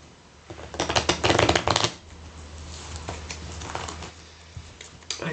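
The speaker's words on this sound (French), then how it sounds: "je vais mélanger tout ça correctement." Oracle cards being shuffled by hand in a dense riffling burst, then softer intermittent card handling, close and fairly loud with no talk.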